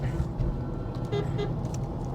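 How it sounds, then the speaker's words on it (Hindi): A 2025 Tata Punch's horn honks in a few brief toots over steady road and cabin rumble while driving through city traffic. "हॉर्न वगैरह भी डिसेंट है"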